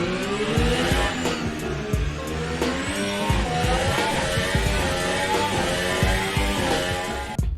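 Formula Ultimate 2022 race car in the racing game Automobilista 2, its high-revving engine screaming loudly alone with repeated sharp upshifts and downshifts and rising and falling pitch.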